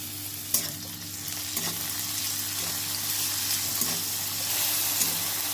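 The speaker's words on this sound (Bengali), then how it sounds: "এর ভিতরে দিয়ে দেবো টমেটো টমেটোকে ভেজে ভেজে ভেজে নেবো" Chopped onion and tomato frying together in a pan, giving a continuous close sizzle with a few sharp spatula knocks and stirring scrapes, no voices.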